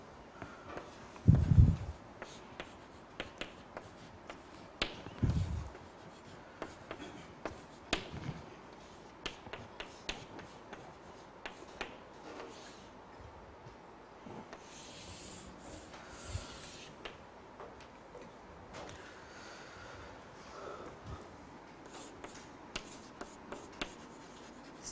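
A lecturer writing an equation on a board during a physics lecture, with sparse taps and faint scratching strokes spread across a quiet room, plus a few louder knocks near the start.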